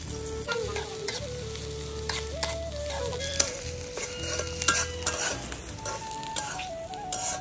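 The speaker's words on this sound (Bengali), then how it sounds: "পেঁয়াজটা ভাজা হয়ে গেছে" Onions sizzle steadily in a hot pan on a clay stove with occasional stirring scrapes, a close, continuous frying hiss over faint background music.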